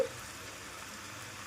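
Whole spices for mutton biryani sizzling in hot oil, a faint, even frying hiss that stays steady with no talk over it.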